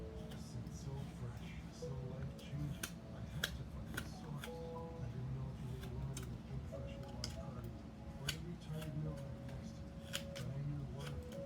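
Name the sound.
carving knife cutting wood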